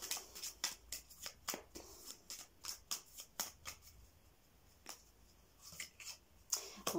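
A deck of tarot cards being shuffled by hand for a reading, with rapid rhythmic riffling bursts repeating close and clear, pausing briefly mid-way before resuming, with no talking.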